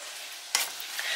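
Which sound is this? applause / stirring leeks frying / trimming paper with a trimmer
stirring leeks frying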